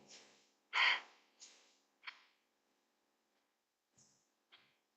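Breath sounds from a Yang Element pranayama exercise come as a series of short, sharp, nearby airy bursts, one much louder than the rest, separated by silence.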